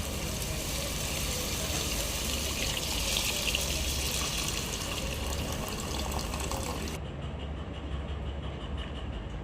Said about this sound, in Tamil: நம்ம புளி கரைச்சலாம் ஊற்றலாம்